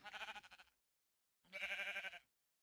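Two bleats from a sheep in a video game, a shorter wavering cry followed after a pause by a longer, steadier one, both clear and close with nothing else around them.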